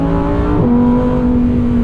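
A 2022 Lamborghini Huracan's engine revs up and then settles into a loud, steady high drone, heard close by for a couple of seconds without talk.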